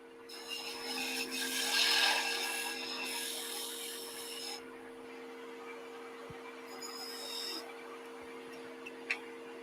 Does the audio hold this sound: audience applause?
no